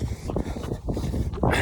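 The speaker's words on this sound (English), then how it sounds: "Oh, it's really windy here." Gusty wind buffets the microphone outdoors with loud, continuous low rumble and a stronger blast near the end, a voice faintly present underneath.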